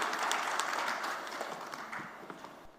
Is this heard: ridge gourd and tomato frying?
no